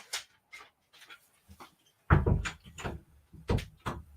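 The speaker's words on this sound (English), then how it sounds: "the dog's being a bit melodramatic" A dog indoors pants in short, breathy bursts and shuffles about, with bumps and soft knocks like a door or cupboard as it moves, fairly close and clear with no talk.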